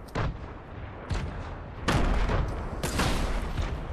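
Several heavy bursts of gunfire and explosive booms from a team battle video game, arriving in three or four loud clusters with dense crackling between them.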